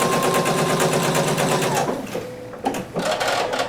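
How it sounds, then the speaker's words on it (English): A sewing machine runs fast and steadily, stitching small fabric pieces for a Card Trick quilt sampler block. A loud, even mechanical chatter briefly pauses and then starts again. "we'll stitch and cut, and then stitch and cut, and stitch and cut"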